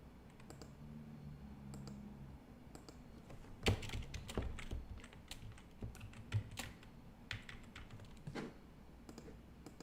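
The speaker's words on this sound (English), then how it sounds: "as I'm typing here" Soft, close clicking of keys on a computer keyboard, irregular bursts of keystrokes with a few louder taps, and no speech.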